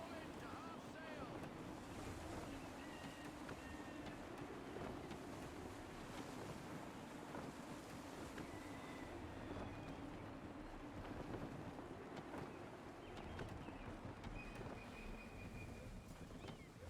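Gusty wind and rolling waves around a sailing ship in the Assassin's Creed video game, a steady broad roar of air and surf that holds for the whole stretch, moderately loud, with no clear talk.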